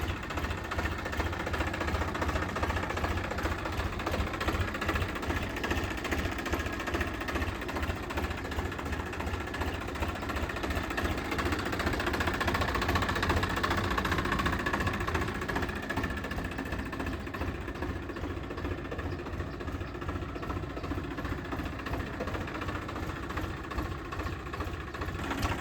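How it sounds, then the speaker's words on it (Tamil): A 2023 Swaraj 963 FE two-wheel-drive tractor with a CRD diesel engine idles nearby, a steady, even, low rhythmic diesel chug that continues unchanged throughout with no talking. "இந்த tractor சுராஜில் 963 FEங்க 2 wheel drive 2023 model, CRD இன்ஜினோட வந்துடுங்க."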